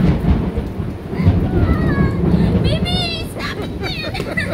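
Thunder from a close lightning storm over a surf spot in San Juan, La Union rumbles loud and steadily under rain, while voices talk and exclaim over it.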